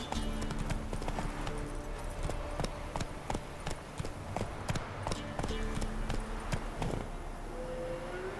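Horse hooves clip-clop in a steady trotting rhythm in the video game The Witcher 3, fairly quiet and continuous beneath low game music.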